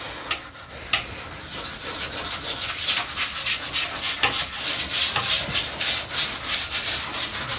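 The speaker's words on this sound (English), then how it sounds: "When you're scrubbing the inside of the toilet, you want to make sure that you get right up under" A brush scrubs the inside of a very dirty toilet bowl up under the rim, making a steady, close, rapid scratchy rubbing that runs continuously without talk.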